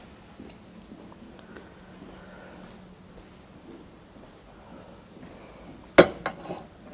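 A ceramic tea set is handled in a German thrift shop: quiet shuffling and soft knocks, then a sharp bright clink of ceramic pieces striking each other followed by a couple of smaller clinks near the end.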